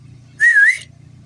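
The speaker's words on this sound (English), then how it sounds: "But first, I gotta give a whistle." A person gives a short, clear whistle to call a dog, a single bright tone that wavers slightly and lasts under half a second against a quiet background.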